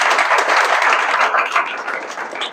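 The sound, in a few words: audience applause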